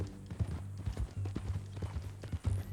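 Horse hooves clip-clop steadily at a walking pace in the Red Dead Redemption 2 video game, a close, even rhythm of soft thuds with a faint ambient bed behind.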